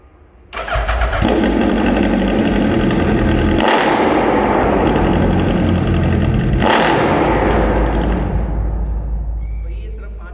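Three motorcycles, a Suzuki Hayabusa, BMW S1000-RR and Kawasaki Z900, rev hard at high RPM during a decibel sound test, a loud continuous engine roar with two sharp throttle blips cutting through, then easing off at the end.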